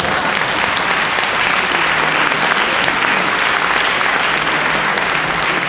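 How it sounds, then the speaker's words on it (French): At a literary conference on travel writers, a large audience bursts into strong, dense applause for an honoured author, a loud continuous roar of clapping with no pauses. "j'aimerais une salve d'applaudissements, parce qu'il n'en a pas souvent, pour Sylvain Tesson."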